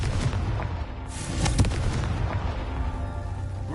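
A Confringo blasting spell in Hogwarts Legacy, heard as a deep, rumbling explosive boom with sharper bursts early on, continuing as a dense low roar.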